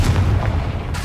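A Confringo fire spell bursts in the Hogwarts Legacy game on Xbox Series X, a dense booming blast with a rumbling low body that holds steady for about a second.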